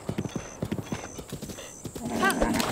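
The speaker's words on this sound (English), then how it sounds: "This horse was like suicidal." Horse hooves clip-clopping in a quick galloping rhythm in the video game Breath of the Wild, close and loud, followed by a whinnying neigh near the end.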